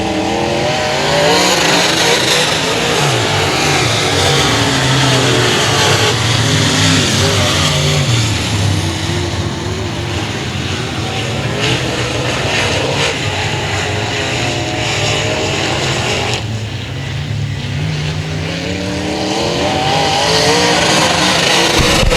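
Race cars roar around a dirt speedway during a heat race, engines revving and droning continuously, loud and close with rising and falling passes for over twenty seconds.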